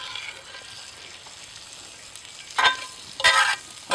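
Sausage is scooped over hash browns in a camp Dutch oven, a low steady sizzle rising into two sharp, loud bursts of frying as the meat lands in the pan, with no voices.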